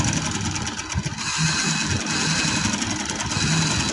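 A sewing machine runs in fast, steady bursts while double stitching a fabric frill, a close mechanical chatter with short pauses and no talking.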